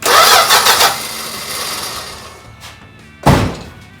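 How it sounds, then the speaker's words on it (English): Cranking and start of a 1974 Dodge Dart engine, a loud close rough burst that settles into a lower running drone, followed by a sharp thunk near the end. "So you saw it crank"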